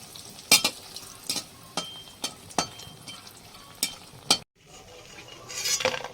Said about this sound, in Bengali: তেলটা গরম হয়ে গেছে এখন বড়িগুলো দিয়ে দিলাম